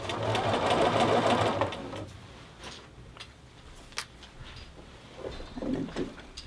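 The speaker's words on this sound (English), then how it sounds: "sleeve itself builds itself up along the presser foot of your sewing machine there." Sewing machine stitching a knit jacket sleeve under the presser foot, a loud steady run of about two seconds that stops, followed by quieter handling sounds and short faint bursts.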